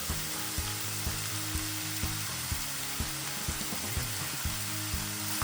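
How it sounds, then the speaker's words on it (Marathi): Ground masala gravy fries in a pan for hotel-style paneer tikka masala, giving a continuous sizzle broken by regular spoon knocks and scrapes about every half second, close and clear. "आता याच्यामध्ये मी हे ग्रेव्ही टाकून घेणार आहे. वाटण जे केलं होतं ना ते टाकून घेणार आहे मी इथं."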